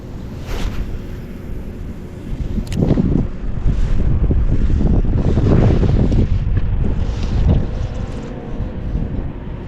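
Strong wind buffets the microphone while fishing outdoors after a storm, a loud, continuous roaring gust that swells and eases over several seconds with no talk.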